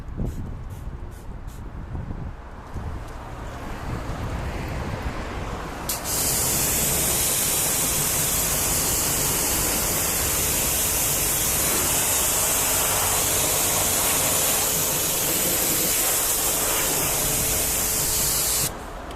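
Wheel of a Mercedes E220d rinsed with a water spray during car detailing, a loud steady hissing jet that starts after a few seconds of softer splashing and runs continuously, close and unbroken.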